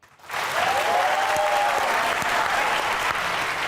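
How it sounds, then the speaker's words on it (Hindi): A studio audience at a Pakistani comedy talk show breaks into loud, steady applause that rises quickly after a brief quiet start and holds evenly, with no speech over it. "जिन्हें ख्याल है कि सदफ ने अच्छा खेला वो तालियां बजाएं"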